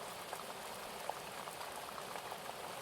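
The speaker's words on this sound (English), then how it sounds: "The sound of the stream bubbling along the bank" A stream bubbling and trickling along its bank, a steady close wash of water with small irregular splashes and no voices.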